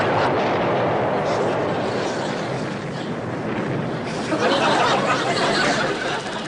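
Naval battle in the North Atlantic with gunfire and explosions, a dense continuous roar of blasts and rumbling booms with a brief chuckle in the mix.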